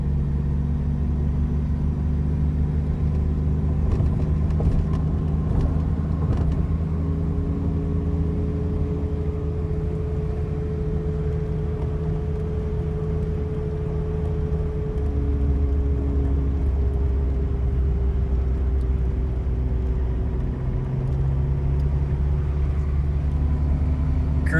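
A 1981 DeLorean under way with its engine running, a steady low rumbling drone and road noise throughout, the engine tone gliding smoothly as the transmission shifts, with no talk.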